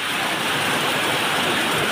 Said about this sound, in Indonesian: Jadi hujan disertai kerikil dan debu vulkanik.